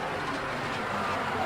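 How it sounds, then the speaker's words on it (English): Spacecraft reentry heating in Kerbal Space Program, a steady, dense roar of rushing noise across the whole clip, loud and unbroken with no talk over it. "And that noise is deadly reentry"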